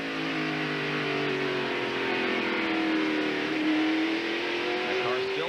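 NASCAR race car engines scream at high RPM during the 1992 Hanes 500, a continuous loud, harmonic wail that shifts slightly in pitch as the cars run, with faint commentary in the background.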